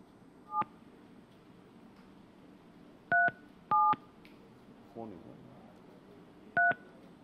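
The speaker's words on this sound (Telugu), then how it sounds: "ఎస్, రింగ్ అవుతుంది." Several short telephone keypad tones beep one at a time with pauses between them, followed by a brief low buzzing tone, heard over quiet background noise.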